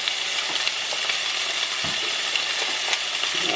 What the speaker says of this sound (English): we're just going to saute up some leftover turkey